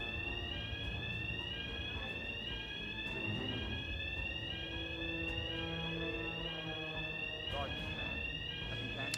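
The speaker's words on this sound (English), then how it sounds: "Sorry, there will be an alarm on stream for a while." A building alarm in the video game Hitman 3 sounds with repeated rising electronic sweeps that cycle steadily for several seconds, persistent and fairly loud over a busy background with faint voices.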